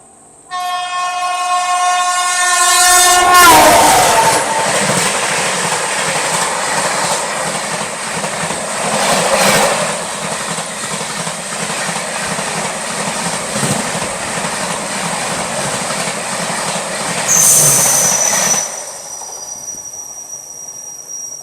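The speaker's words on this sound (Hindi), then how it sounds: "तो अभी जो ओवरटेक आपने देखा ये थी अपनी रांची राजधानी एक्सप्रेस।" The Ranchi Rajdhani Express overtakes on a Delhi–Patna rail journey, starting with a loud sustained horn, then a long, close, steady roar of wagons and clattering wheels, with a brief high squeal near the end.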